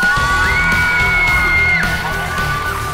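A loud studio audience cheers and whoops with applause on a Vietnamese television comedy game show, a dense continuous roar of voices and clapping with a sustained high tone running through it.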